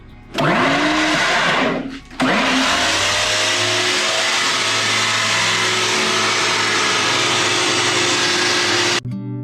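A loud motorized trimming device cutting tobacco seedlings spins up with a whining motor, drops briefly, then runs steadily at high pitch for several seconds before cutting off, with no talk.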